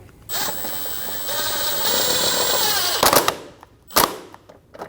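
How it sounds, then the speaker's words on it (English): A power tool drives screws into the bottom of an intake manifold on a 2012-2022 Volkswagen Passat, giving a close, loud whirring buzz for about three seconds, then two short bursts. "Install the screws into the bottom of the intake through our plate."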